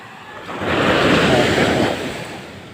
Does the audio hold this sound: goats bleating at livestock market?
no